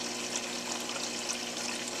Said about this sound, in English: The water just trickles down over that screen and the algae grows on the screen.